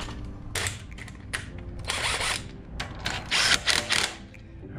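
A clutch bolt is threaded back into a Predator 212 small engine, with close, intermittent metallic ratcheting and tool clicks in several short bursts over a low background rumble.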